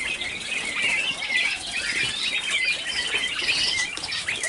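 Pigeons flapping their wings in a loft, a steady busy flutter with soft chirps throughout, close and fairly loud with no talking.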